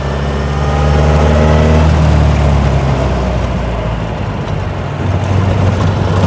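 A 1932 Austin Heavy 12/4 Windsor engine drones loud and close through a gear change, its steady low hum dropping in pitch and then settling into a rougher, noisier run.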